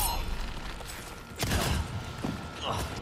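A few sharp gunshot bursts ring out amid Resident Evil 4 game sounds during the Krauser fight, with a louder burst in the middle and another near the end, while a voice talks over it.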